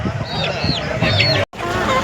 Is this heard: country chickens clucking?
yes